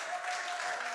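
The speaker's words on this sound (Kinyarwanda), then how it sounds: "amashyi menshi" Wedding guests clap together in a steady, dense burst of applause, fairly faint and continuous throughout.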